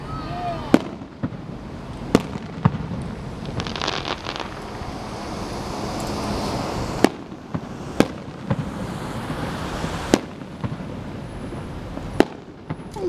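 Outdoor fireworks burst in a string of sharp, loud bangs spread across the clip, with crackling and a steady wind-like rush filling the gaps between explosions.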